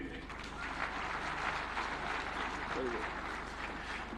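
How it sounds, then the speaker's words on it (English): Audience applause at the opening of a devolution conference in Homa Bay County, heard as a steady wash of clapping at moderate level with faint background murmur throughout. "Another round of applause for Senator Kajwang"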